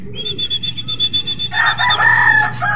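A rooster crows loudly and close by: a long drawn-out call, then a harsher, broken finish, with low background hum underneath.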